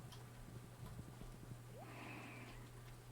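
Rapid clip-clop of horse hooves in Stardew Valley over a steady low hum, with a faint rising tone and a soft high hiss midway; game-like ambience, no talk.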